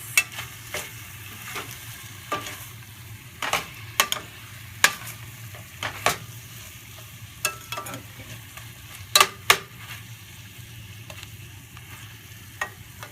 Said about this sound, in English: So saute this for about a couple minutes